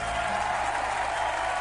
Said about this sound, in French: Une envolée d'applaudissements.